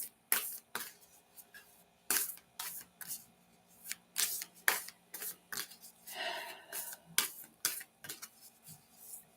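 Cards are shuffled in short, sharp bursts of riffling and snapping, repeated at irregular intervals with quiet pauses between.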